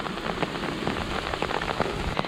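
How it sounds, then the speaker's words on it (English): Heavy rain pours steadily near a waterfall on the French Riviera, a dense continuous hiss of water close by with no voices over it. "Look how wild that is with all the rain."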